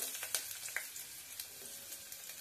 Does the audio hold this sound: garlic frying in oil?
yes